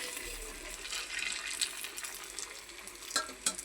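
Pitha frying in oil in a wok, a steady dense sizzle and crackle that runs the whole time, with a few sharper pops near the end.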